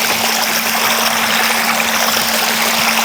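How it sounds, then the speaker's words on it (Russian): A swimming pool's return jet nozzle, angled to swirl the water, sends out a steady close rushing and gurgling wash of flowing water with a faint constant pump hum underneath, alone and unbroken. "Нужно направить форсунку влево, чтобы она вот так закручивала воду."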